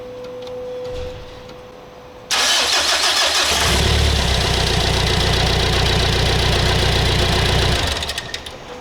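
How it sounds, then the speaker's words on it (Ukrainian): A Mitsubishi L200 engine cranks briefly, then catches and settles into a loud, steady idle that runs for several seconds before easing off. "З витратоміром повітря, двигунець працює."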